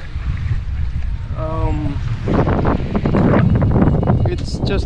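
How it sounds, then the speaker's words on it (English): Sailboat running downwind in tropical waters, with steady wind rush and water washing against the hull throughout, and a person speaking briefly over it. "this is how sailing in the tropics look like."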